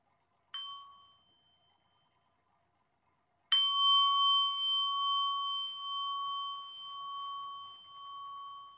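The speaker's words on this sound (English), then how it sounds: "let's listen to a sound of the bell before we go ahead" A bell sounds twice: a brief first strike that fades fast, then after a pause a second strike that rings on with a clear, sustained tone, heard alone with no talking.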